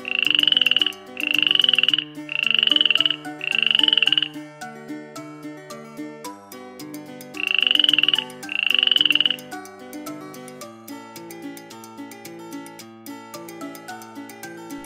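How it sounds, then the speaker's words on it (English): A frog croaks in six loud, drawn-out calls, four in a steady row and then two more after a pause, over light background music. "Green frog."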